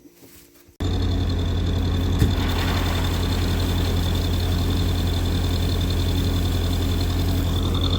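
A tractor engine turns over and catches abruptly after a short quiet moment, then settles into a loud, steady, close idle with a deep throbbing drone and a constant whine, ready for unloading grain.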